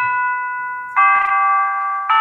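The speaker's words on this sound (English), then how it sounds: "Little Westminster chimes out of Big Ben." A small electronic gadget plays the Westminster chimes of Big Ben as a clear, loud synthesized bell-like tone sequence, with sustained notes changing pitch in steps and nobody talking.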